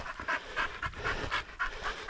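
A bird dog pants hard on a grouse trail, with quick rhythmic breaths repeating steadily and close by for a couple of seconds, no other sounds competing.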